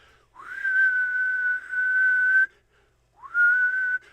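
A person whistles to imitate a sharp whistle sound: two long, steady, high whistled tones with a quick upward glide at each onset, near and clear against silence.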